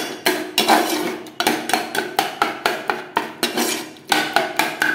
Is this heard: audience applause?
no